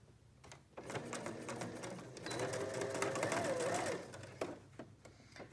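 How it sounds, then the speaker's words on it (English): A sewing machine runs a half-inch seam along a gray fabric bonnet mask, starting with a few clicks, then a steady whirring hum with rhythmic needle ticks that builds slightly before stopping, followed by faint handling noises. "I'm sewing a half an inch"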